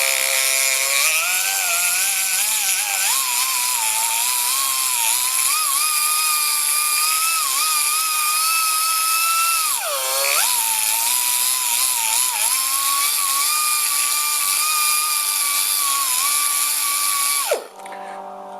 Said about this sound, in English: Here I'm starting to grind away this other post.